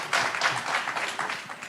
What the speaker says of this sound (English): Yeah, claps for that.